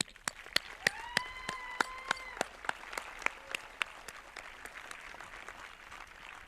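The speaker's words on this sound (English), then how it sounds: "Classmates, please join me in applauding these heroes for their endless contribution to our education and lives" Graduation audience at Wareham High School applauding faculty: scattered, distinct claps from a fairly distant crowd, with a brief whistling cheer rising over them.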